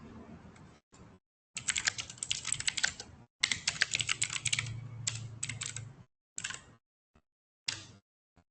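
Someone types a command on a computer keyboard, quiet and close, with quick clattering bursts of keystrokes separated by short pauses and a few isolated taps near the end.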